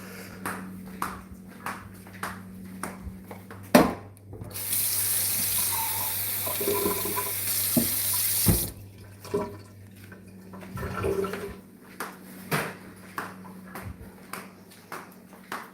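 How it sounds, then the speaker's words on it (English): Tap water runs steadily into a bowl for about four seconds, close and fairly loud, with scattered clinks and small knocks before and after. "Once I've done that, I then go and fill up the bowl with other water"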